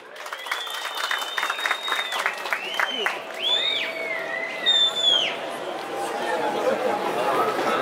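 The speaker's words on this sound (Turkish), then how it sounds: "Onlara kocaman bir alkış alıyoruz" A crowd at a lamb shearing festival applauds steadily, the clapping building and holding, with chatter and a few voices mixed in.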